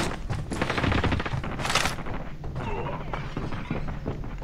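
Dense, overlapping gunfire rattles on without a break in a multiplayer shooter video game, with rapid bursts and a bright shattering crash partway through. The shots are loud and close, and voices talk under the din.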